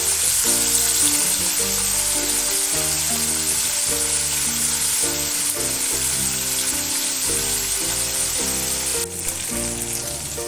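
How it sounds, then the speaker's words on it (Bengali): Mourola fish crackle and hiss in hot mustard oil in a wok, a loud unbroken sizzle held close, with background music playing underneath throughout. "আমি কড়াইয়ে সর্ষের তেল দিয়েছি, সর্ষের তেলটা গরম হয়ে গেছে। এবার আমি মাছগুলো ভেজে নেব"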